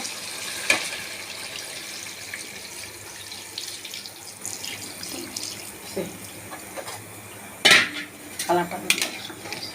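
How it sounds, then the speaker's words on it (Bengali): Water pours steadily into a metal pot of braised beef, with a few sharp clinks of cookware near the end and no talking. "এখন পানি দিয়ে দিব।"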